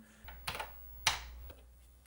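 Keys clack on the repaired keyboard of a vintage home computer, a few separate close taps spread over a couple of seconds in a quiet room.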